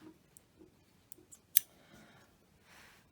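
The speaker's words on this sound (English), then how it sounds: "and then cut the thread off." Scissors snip the thread after hand stitching a pencil case: a single sharp, close cut stands out among a few quiet clicks and light handling taps, with no talk.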